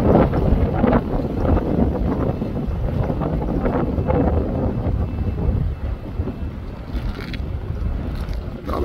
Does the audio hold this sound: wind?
yes